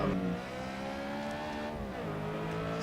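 A BMW M3 E92 engine in the racing game Assetto Corsa drones under sustained throttle on a drift run at Magione, its pitch wavering and dipping before climbing again, steady and close without voices.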